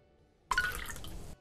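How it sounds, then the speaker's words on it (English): Water for boiling noodles in the VR cooking game Counter Fight, heard as a short liquid splash or pour that lasts under a second, close and fairly clean against near silence. "Boil the noodles and put them in a bowl."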